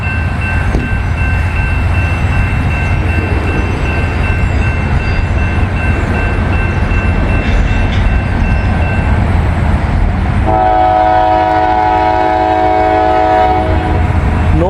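A Norfolk Southern mixed manifest freight train rolls past at a level crossing with steady, loud rumble and wheel noise throughout, a bell or signal tone ringing early on, and a long blaring horn blast near the end.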